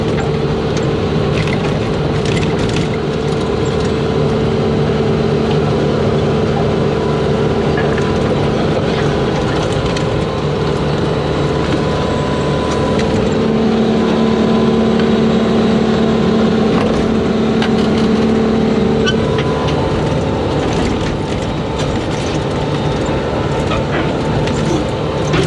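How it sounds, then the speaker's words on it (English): A skid steer engine runs and moves forward on a cold morning, producing a steady low, droning rumble with a constant hum that holds throughout, close and loud. "Matt pulled the skid steer far enough forward."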